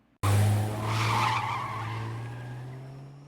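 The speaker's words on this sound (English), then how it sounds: "he steals the car and bails" Cartoon car screeching off with tires skidding, a loud sudden squeal that starts abruptly and holds steady as the engine roar fades slightly over a few seconds, with no voices.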